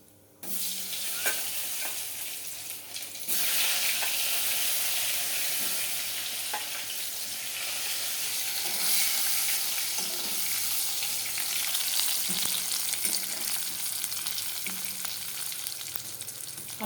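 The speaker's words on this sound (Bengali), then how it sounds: "আলুগুলো একটু ভাজা ভাজা হয়ে গেলে মশলাটা দিয়ে দেবো।" Boiled potatoes frying in oil in a pan, with a constant loud sizzle and stirring scrapes after a brief quiet start, continuing evenly to the end.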